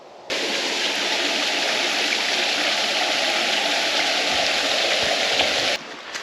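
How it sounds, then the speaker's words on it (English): A small waterfall on the Fiery Gizzard Trail produces a loud, steady rushing roar of falling water that runs without a break and stops abruptly near the end. "That was a little waterfall."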